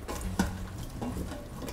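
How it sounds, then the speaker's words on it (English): A spoon stirs chicken broth in an Instant Pot insert, with a few soft clinks and a quiet scrape against the metal pot, close and faint. "Give it a bit of a stir."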